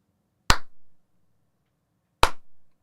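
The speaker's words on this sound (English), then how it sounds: "slow clap." Two single hand claps ring out about two seconds apart, loud and close, with silence around them.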